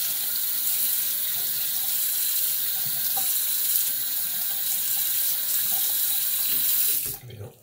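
Tap water runs steadily into a sink while soap is rinsed off a Rockwell 6S safety razor, a close, even rush of splashing that stops abruptly near the end.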